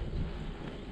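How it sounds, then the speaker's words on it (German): Headwind buffeting the microphone while cycling on a hilly Brandenburg tour, a steady low roaring rush of wind noise that fills the brief moment without any talk. "Und der Gegenwind ist sehr flexibel."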